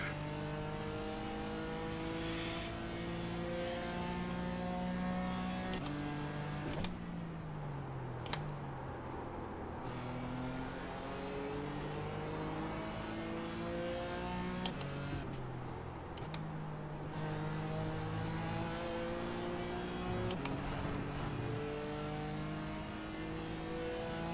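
A Porsche race car engine in the iRacing sim revs up and down through gear changes, its loud steady whine rising and dropping repeatedly, with occasional keyboard-like clicks.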